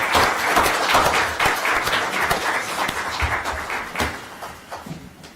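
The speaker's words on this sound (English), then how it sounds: "Save the applause for the next hearing." Applause from the audience at a Brookline Select Board meeting, a dense burst of many hands clapping in a room that fills the moment and slowly thins out toward the end.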